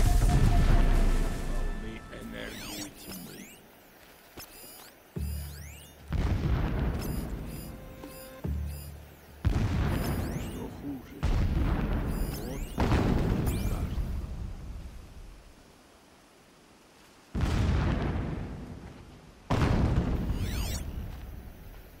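Explosions in the PC game Horizon Zero Dawn: about eight heavy, booming blasts at irregular intervals, each loud and close, then decaying into rumbling tails.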